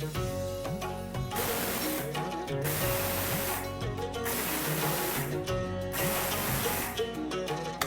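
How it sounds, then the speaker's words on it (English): An electric grinder whirs steadily as it grinds cooled lentils into a coarse powder, with a loud continuous rough hum that pulses at regular intervals. "I'm going to grind this now into a coarse powder."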